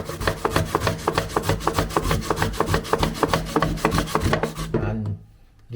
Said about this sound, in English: I finished grating my pumpkin.